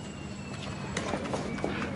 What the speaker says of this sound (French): c'est notre cheval. Il est en bas, dans un camion spécial.